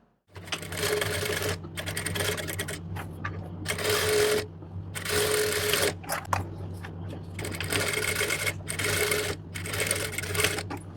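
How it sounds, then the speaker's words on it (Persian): A sewing machine stitches a facing along a neckline in loud, close bursts of rapid whirring, several runs of a second or more separated by short pauses, with no one speaking. "جلو بازه، قسمت یقه و تا پایین رو دوخت میکنم."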